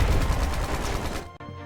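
Flashbang grenade going off: a loud, dense crackling burst of blasts that rolls on for over a second before stopping abruptly, leaving a faint ringing tail.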